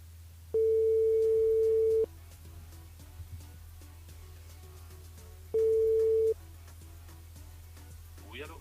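A telephone ringing tone sounds on a radio station switchboard during a live broadcast: two long steady tones, the second after a pause of several seconds, over a low background hum.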